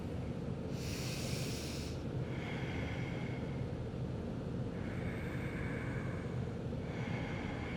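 Slow breathing in a seated yoga forward fold, nose toward knee with hands bound behind the back; airy exhales come in several soft bursts over steady background hiss.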